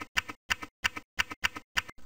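Keys tapped on a computer keyboard while searching an encyclopedia program, in short quick clusters of clicks separated by brief silent gaps, close and clear with no talking.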